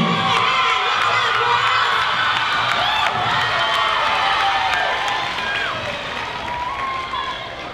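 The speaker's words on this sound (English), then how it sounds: "One more round of applause for these two." A crowd cheers, whoops and applauds for two Ahuroa solo dancers at the 2017 Manahere I Ori Tahiti competition, loud and sustained with children shouting and high squeals over the clapping, easing slightly toward the end.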